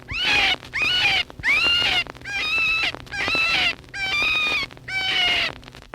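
A rough, gravelly voiced cottontail rabbit gives a recorded distress call: six harsh, wavering squeals in a steady rhythm, each about half a second long, sounding loud and close.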